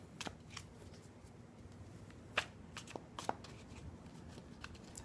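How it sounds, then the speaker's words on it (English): Tarot cards are shuffled in a long, soft riffling sequence of quiet papery flicks and taps, with a few sharper snaps scattered through it. The sound is faint and close, and there is no talking. "Again, a little bit of a long shuffle."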